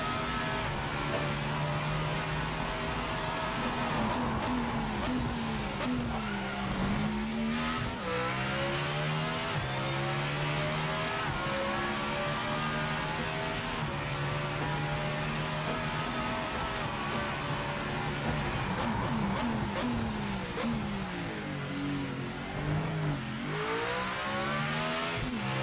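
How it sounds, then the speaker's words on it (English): A racing car engine in the video game Project Motor Racing revs continuously, its pitch sweeping up and down through gear changes, loud and steady with no voices. "I actually think, Eagles, this sounds more like the real car."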